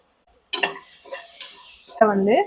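Tomatoes and onions being stirred and sautéed in a pan, a spoon scraping and clinking against the metal in short bursts, with a voice speaking alongside.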